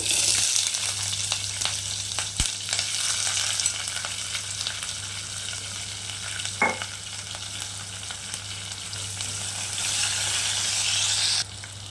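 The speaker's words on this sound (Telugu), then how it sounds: "ఈ నూనెలో బాగా ఫ్రై అవ్వాలండి" Onions frying in oil with fenugreek, cumin, mustard seeds and curry leaves make a steady, moderate sizzle, with occasional stirring scrapes and a low hum beneath.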